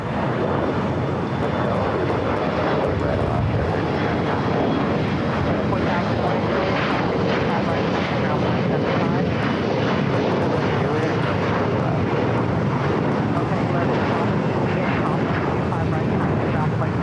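A jet airliner roars loudly and continuously as it comes in to touch down on runway 25 left at Los Angeles International Airport, a broad, steady engine rumble filling the scene throughout.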